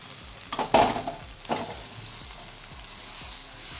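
Cooked tapioca being stir-fried with coriander leaves in a pan: soft sizzling throughout, with a couple of sharper scraping stirs near the start, fairly quiet and without talk.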